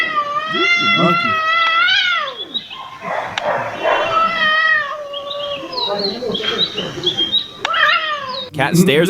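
Cat meowing repeatedly in drawn-out, wavering cries, loud and close, with yowling and a few yips mixed in, alongside animal sounds resembling speech.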